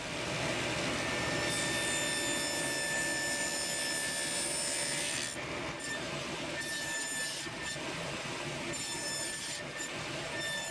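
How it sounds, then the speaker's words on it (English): A table saw rips through a walnut block to cut grooves, a loud steady whine that holds for several seconds, then drops back to the motor running and cutting in shorter bursts. "I'm doing that on my table saw in 2 cuts to get the right thickness"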